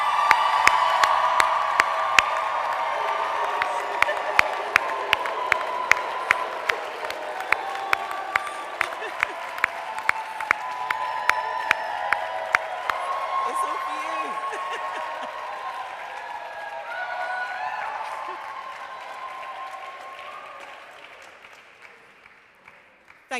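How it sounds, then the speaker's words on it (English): A cathedral crowd at a university graduation ceremony breaks into sustained applause with scattered cheers and whoops. The clapping is dense and steady, then gradually thins and fades near the end. "One more big round of applause for that support."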